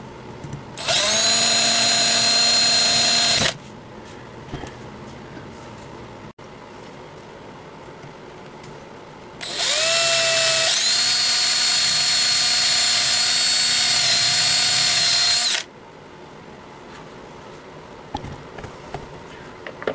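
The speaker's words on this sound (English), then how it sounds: "you can start the drilling of the post" Two long bursts of a high-pitched power drill whining steadily through a metal post on a Corgi Bedford CA van, each several seconds long, with quiet pauses between.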